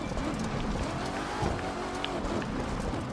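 A Corvette C7 race car engine drones steadily at moderate distance as it races over mixed dirt and tarmac in The Crew 2, a continuous revving hum with faint tire noise and no talking.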